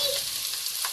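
Onions fry in a pan for pasta, giving a steady, close hiss and crackling sizzle with a faint stir partway through.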